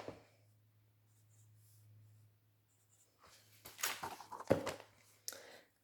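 Pencil scratches across paper in a few quick, close strokes after a stretch of near silence. The sound is faint and dry, with short bursts and small pauses, and no voice over it.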